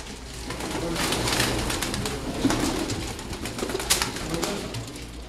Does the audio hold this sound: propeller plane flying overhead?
no